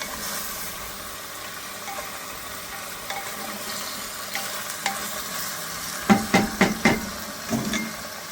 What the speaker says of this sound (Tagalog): Yung nawawala na yung sibuyas, na prito na ng ito.